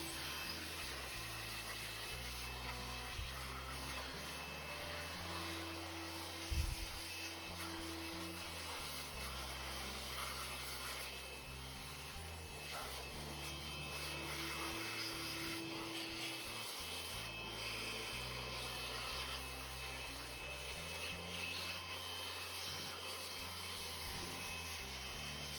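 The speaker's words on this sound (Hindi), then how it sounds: "प्रिंटर पर हमने अच्छे से ब्लोअर को लगाकर अच्छे से डस्ट वगैरह को क्लीन" An air blower cleans dust from a Canon MF244dw printer, making a faint, continuous hissing rush of air that runs steadily throughout with small bumps and handling noise.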